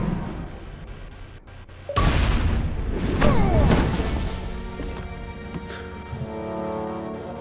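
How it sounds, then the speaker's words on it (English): An explosion erupts in the LOST video game, a sudden heavy boom followed by crashing debris and a rumbling tail that fades into lingering ambient tones. "Come on, that explosion's gonna attract attention."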